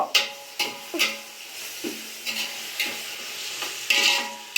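Food fries in a pan, sizzling softly while a spoon scrapes and stirs it in repeated strokes about every half second, close by.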